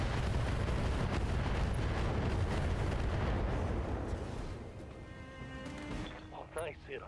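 Mech weapons in the Battletech game fire in a dense, rumbling barrage of booms and blasts that fades toward the end, where a few brief whooshing effects remain.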